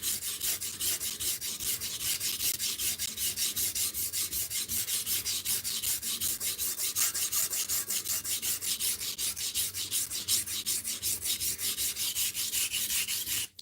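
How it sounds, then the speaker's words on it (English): Hot steel being ground slowly during a live-streamed forging session, a steady, continuous abrasive rasping that holds at an even loudness for the whole stretch with no talk over it. "it's very slow to grind hot steel"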